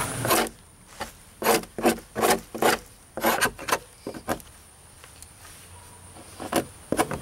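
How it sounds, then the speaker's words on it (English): A bent screwdriver tip scrapes dried glue from the gaps between plywood faux brick faces, making a series of short, rough rasping strokes in quick bursts close up, trailing off into lighter, sparser scrapes. "now I can use that as a scraper to remove the glue in between the faux brick faces"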